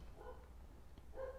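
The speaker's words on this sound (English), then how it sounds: "dogs are especially barky tonight" Dogs bark indoors at night: two short, faint barks sound from a distance, one near the start and one near the end, with quiet between them.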